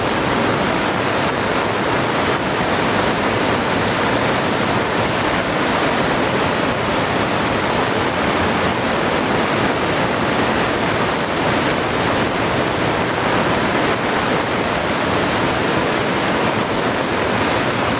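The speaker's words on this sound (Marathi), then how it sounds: "हे बघा पाणी पण तसं भरपूर आलं आहे आता नदीला" A river swollen by heavy Konkan monsoon rain rushes in flood, a loud, continuous roar of churning water close at hand with no pauses.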